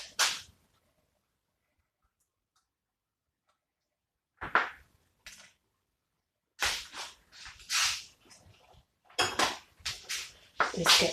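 A knife scraping and clattering against dishes while preparing abacha, sharp scattered clinks and scrapes in short clusters separated by silence, close and fairly loud.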